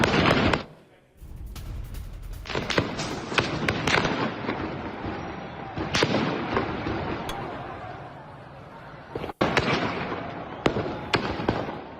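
Rapid cracks of gunfire ring out during protests in Iran, dense irregular bursts of sharp reports with short pauses, loud and echoing outdoors.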